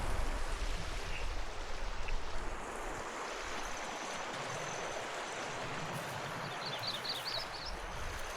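A creek in Box Canyon flows with a soft, continuous wash, fairly faint and steady, mixed with light wind noise on the microphone and a few faint high chirps of insects or birds near the end.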